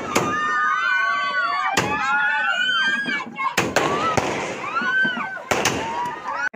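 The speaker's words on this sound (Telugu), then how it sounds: "ఇక ఇక్కడ టపాసులు కూడా తెచ్చారండి, అవి పేలుతుంటే చూడాలి పిల్లల సౌండ్." Firecrackers burst repeatedly at a wedding anniversary celebration, loud sharp cracks and pops spaced through the clip over a continuous stream of crackling and whistling, with a crowd audible behind.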